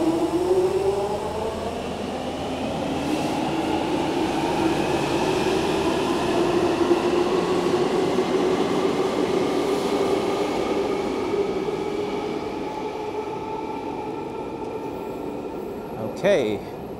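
A London Underground train rumbles and whines as it pulls away from a platform with screen doors, pitch rising steadily then fading, with a brief squeal near the end.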